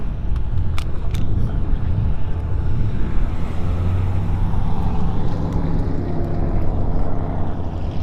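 LS1 V8 engine in a Pontiac GTA idles with a steady, loud low rumble outdoors at a car show, running continuously without talk.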